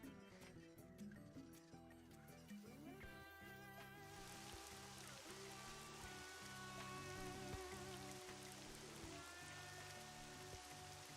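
Rain in the theme-park game Roller Coaster Tycoon 3 patters steadily on surfaces beneath a continuous game music loop, with occasional horse clip-clops and whinnies from a ride mixed in.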